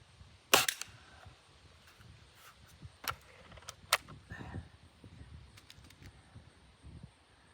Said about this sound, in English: The gun does like to jerk when you fire it though.